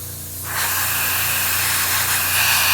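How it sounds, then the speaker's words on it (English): A steady, fine airbrush hiss spraying thin coats of light pinkish paint over a dark base on a King Tiger tank model, starting after a brief pause and continuing evenly, close and fairly loud, with a faint low hum underneath. "I'm spraying very, very thin coats of this light pinkish color."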